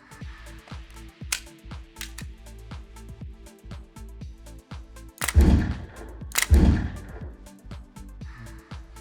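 An M17 pistol on a FATS 180LE firearms training simulator fires a short course, two loud close bangs about a second apart standing out over a run of quicker mechanical clicks and snaps.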